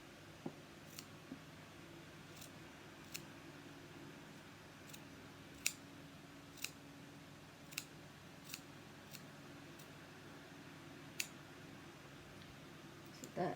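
Scissors snip through paper while cutting out a piece for a slimline journal pouch, sharp small clicks scattered irregularly over a quiet room tone, close and fairly faint.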